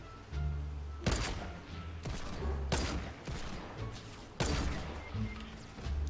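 Gunfire in a multiplayer video game match, several loud sharp shot bursts at irregular intervals over a low rumbling background.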